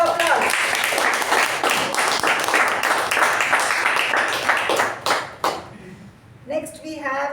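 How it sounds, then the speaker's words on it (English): A crowd at a Toastmasters club meeting applauds with dense, steady clapping for several seconds, which fades out before a voice begins speaking at the end. "for that we give him a big round of applause"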